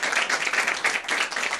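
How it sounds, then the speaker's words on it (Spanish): A Mother's Day event audience in Lota gives strong, dense applause that stays loud and steady from start to finish, with no talk over it. "Así que fuerte, fuerte el aplauso."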